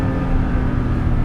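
A 1982 Porsche 930 Turbo Slant Nose heard from inside the cabin, its engine a steady low whir and rumble, constant and fairly loud with no talk over it.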